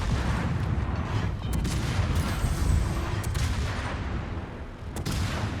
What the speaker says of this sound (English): Again, opportunity to shoot your guns.